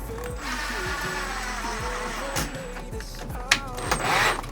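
Drywall screws are driven into drywall, producing a continuous whirring mechanical whine with a few short clicks and a sharp tap near the end, close and moderately loud.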